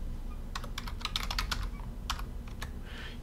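Keystrokes on a computer keyboard tapped in short bursts while entering a username, crisp clicks over a steady low hum, with no voices.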